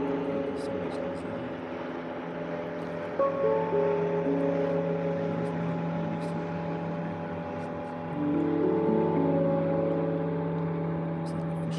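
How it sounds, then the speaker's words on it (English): A fishing boat's engine drones across open water outdoors, a steady, tonal hum whose pitch shifts as it passes and swells louder toward the end. "Here comes the boat. Can you hear it?"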